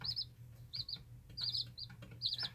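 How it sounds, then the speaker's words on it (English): Baby chicks peep in quick high tweets, several short bursts over a steady low hum, fairly faint and close. "With a cute little chicken tweeting."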